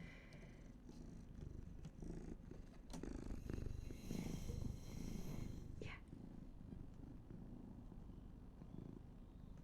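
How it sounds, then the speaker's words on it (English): A pet cat purrs steadily up close, a low continuous rumble that swells slightly in the middle, with a few soft rustles and a brief higher squeak near the end. "Gotta turn off the filter so we get the Senpai purrs."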